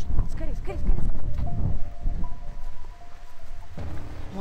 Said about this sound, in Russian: Блин, и ветрище еще поднялся.